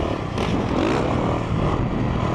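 A 2017 Yamaha YZ450F dirt bike is ridden on a track, its engine roaring loud and close throughout with throttle swells and some clattering.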